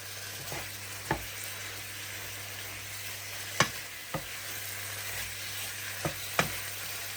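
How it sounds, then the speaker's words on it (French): Spices, tomato concentrate and harissa fry in a pan with a steady, quiet sizzle. Now and then a utensil gives a soft knock. "Et on va bien faire revenir le tout. Donc les épices, concentré de tomate, harissa."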